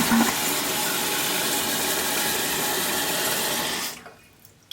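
A toilet with a newly replaced fill valve flushes and refills, giving a loud, steady rush of water close by that holds evenly for about four seconds and then cuts off sharply into quiet.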